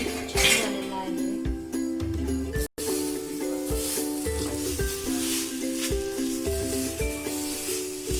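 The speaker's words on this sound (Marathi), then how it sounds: "झाकण काढून बघूया." A lid lifted off a cooking pot of besan pitla made from soaked chana dal, with a metallic clink and rattle against a steady sizzle of the dish cooking, close and clear.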